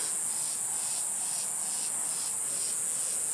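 Insects chirping in an Ecuadorian forest near the Amazon, a steady high-pitched continuous buzz with faint rhythmic pulsing, moderately quiet and unbroken, no voices.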